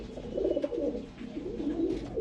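Pigeons in a loft cooing softly and continuously, several low rolling coos overlapping at close range with no talk.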